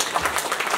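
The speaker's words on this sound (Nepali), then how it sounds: "तपाईँहरूले ताली पड्काएर" Wedding guests applaud a newly married couple just announced as husband and wife, a dense burst of crowd clapping filling the whole brief moment.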